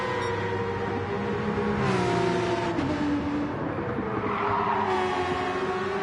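Race car engines from Gran Turismo 7, including a Porsche 911, drone steadily with shifting revs and a slight pitch sweep, sustained and fairly close with no talk.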